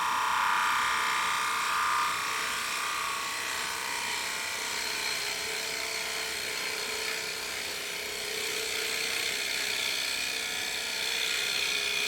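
A wooden plate spins on a woodturning lathe while a cutting tool works its face, giving a continuous high whirring hiss with a steady motor hum underneath, moderately loud and alone.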